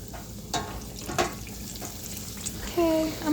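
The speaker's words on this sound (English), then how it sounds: "Let them fry." Food sizzles in a frying pan, a steady hissing crackle beneath a few clinks and scrapes of utensils, moderately loud and close.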